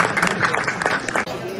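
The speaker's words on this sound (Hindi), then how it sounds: "अपने लिए तालियां बजा सकते हैं।" An audience claps together at an indoor gathering, a dense, steady patter of hands close by that fills the short moment before stopping abruptly.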